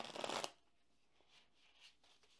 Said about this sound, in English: we're going to go ahead and shuffle the cards